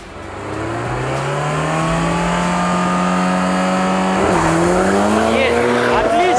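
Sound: BMW M5 and Toyota MR2 accelerating from a standing start in a drag race

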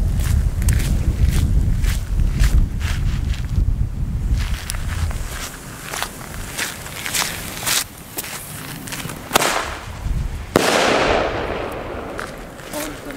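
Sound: firework mortar shells exploding

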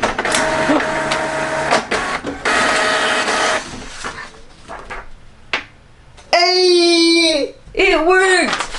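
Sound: HP ENVY 6052 printer printing

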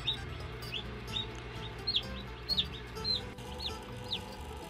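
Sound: newly hatched chick chirping

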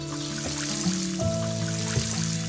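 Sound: watering crops in the video game Doraemon Story of Seasons

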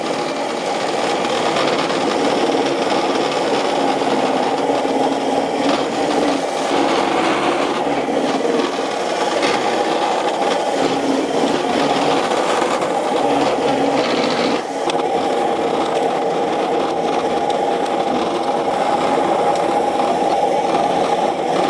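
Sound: powered weed removal machine spinning, pulling weeds from concrete

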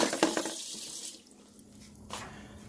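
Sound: water running from a kitchen tap

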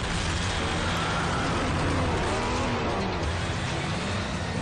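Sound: car engine revving at speed

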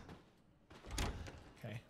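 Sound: door opening in video game Resident Evil Biohazard

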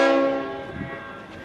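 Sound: Leslie RS5T horn on V/Line N456 locomotive

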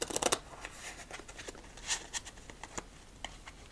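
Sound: shuffling playing cards

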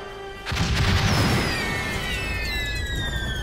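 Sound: gunfire in an animated episode

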